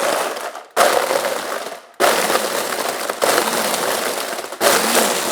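Blender pulsing and crushing ice for a key lime pie margarita, loud grinding bursts broken by brief pauses between pulses, close and alone.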